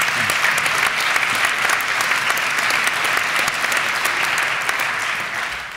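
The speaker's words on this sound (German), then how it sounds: "Ihr Applaus war mir jetzt sehr wichtig" Sustained applause from a church synod audience fills the hall, a dense, steady wash of many hands clapping that holds evenly throughout, tapering slightly at the very end, with no voices over it.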